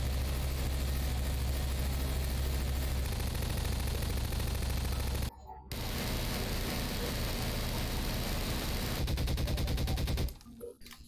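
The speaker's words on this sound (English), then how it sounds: "just take a look at me unloading a magazine with both automatic weapons" Sustained automatic gunfire from two weapons emptying full magazines in a Half-Life 2 mod, loud dense rattling bursts with a brief pause midway and a tail-off at the end.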